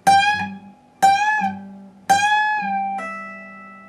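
Slow electric guitar phrase from a solo, part 4: three picked notes about a second apart, each bending or pulling off into a ringing sustained tone, played alone and clearly up close.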